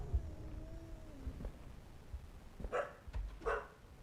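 A dog barks in the horror video game Something In The Well, two faint, distant yaps arriving a moment apart over a low, dark ambient hum.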